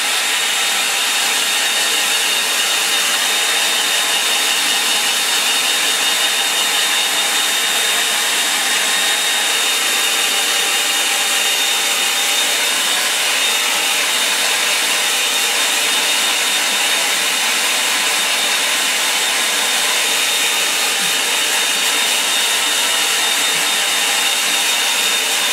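A hair dryer blows on a fresh painting of boats on a lake, giving a steady, loud, close airy whir that holds unchanged for the whole stretch with no talking.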